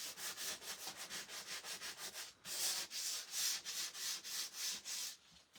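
Rhythmic back-and-forth sanding on a small Dollar Tree mini lantern, steady repeated rubbing strokes close and fairly loud, with a brief pause midway, and no talking.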